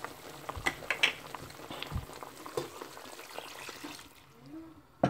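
A meat sauce for the Abidji specialty sauce kreingéssi boils in a pot, a faint, soft bubbling and sizzling with scattered small clicks and clatters near the pot.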